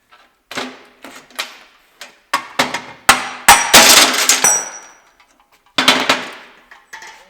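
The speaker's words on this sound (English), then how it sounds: "And then just hit it with a hammer." A hammer strikes a metal Honda Civic rear trailing arm in a series of sharp, ringing blows, some single and some in quick bursts, close and loud with pauses between.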